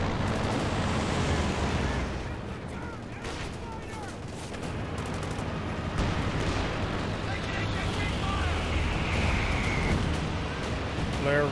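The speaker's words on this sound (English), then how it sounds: "We do now have the Fly-P firing the barrage over here." An artillery barrage from a Fire-support Panzer in Company of Heroes 2 pounds away in a dense battle soundscape, with rolling booms and rumbling explosions under a commentator's ongoing voice.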